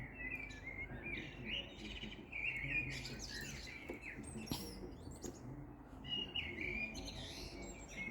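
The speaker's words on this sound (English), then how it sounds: "until these birds have shut up," Several birds, blackbirds among them, sing at dawn with overlapping chirps and whistled phrases, some nearer and some farther off, over a faint background hum.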